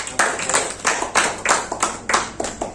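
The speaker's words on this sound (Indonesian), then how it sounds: "Tepuk tangan dulu untuk Mbak Atif." A classroom group claps in a steady rhythmic pattern of sharp, close hand claps, roughly three per second, with little else heard.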